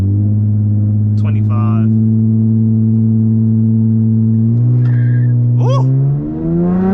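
Drag car launching from a dig with a new drag-race transmission tune: a loud, steady engine drone holds throughout while a few sharp chirps and squeals cut in near the end, with a brief exclamation from a person.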